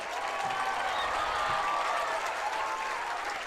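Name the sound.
crowd applause for both lacrosse teams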